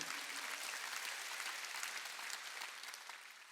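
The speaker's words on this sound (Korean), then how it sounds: "박수" Sustained applause from a church congregation at a Wednesday worship service, dense and steady with no voices, fading slightly toward the end.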